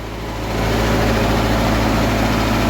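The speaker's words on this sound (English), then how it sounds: "Had to turn on the fuel, little instant start, and it fired right up." An old tractor engine idles steadily right after starting, a low continuous rumble with a broad rough mid-range drone that holds even and loud throughout, no talking over it.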